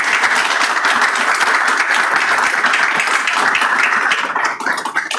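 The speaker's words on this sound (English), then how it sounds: "can we have a round of applause for these gentlemen?" An audience at a school board of education meeting gives loud, close, continuous applause honoring student track athletes, tapering slightly at the end.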